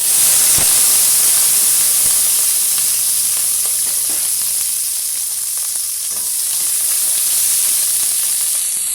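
Two large onions, sliced lengthwise into thick strips, sizzle loudly and steadily in hot oil for a chana gravy, a dense continuous frying hiss with faint stirring clicks and no voices.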